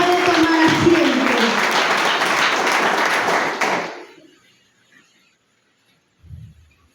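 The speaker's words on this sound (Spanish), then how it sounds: "Aplauden al Rey de Reyes" A church congregation at a Spanish-language service claps in a dense burst of applause for about four seconds, which then fades quickly to near silence, followed by a faint brief sound.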